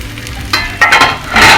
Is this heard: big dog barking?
no